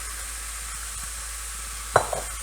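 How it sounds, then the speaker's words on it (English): Ground beef sizzling in a hot frying pan: a steady, even hiss runs throughout, with a low hum underneath and a sharp utensil clink near the end. "my frying pan is nice and hot, so I'm going to take the beef and dump it in there"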